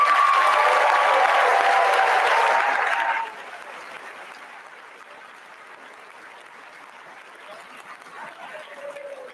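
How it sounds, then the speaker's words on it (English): Crowd applause at a high school ribbon cutting ceremony, loud and dense for about three seconds, then cutting off to quiet outdoor ambience. "Let's give a round of applause for all of our current and future Wolves who are here to witness history."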